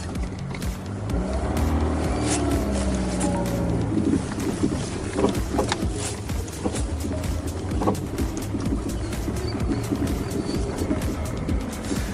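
A 1978 VAZ 2106 with a 1.6 engine drives off, its engine droning steadily and loud throughout, with wind rush and road rumble mixed in and no talk over it.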